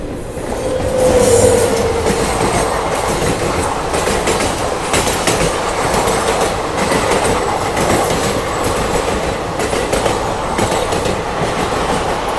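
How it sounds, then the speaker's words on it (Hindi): The Sasaram Gaya Dhanbad Express rolls past on a long river bridge, a steady loud rumble of wheels and carriages with rhythmic clatter and a brief squeal near the start. "ये थी अपनी सासाराम गया धनबाद एक्सप्रेस"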